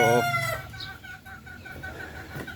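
Chickens and young chicks cluck and peep on a muddy, rain-soaked farmyard, a rooster-like call rising at the start, followed by scattered close chirps and clucks over a soft, steady background.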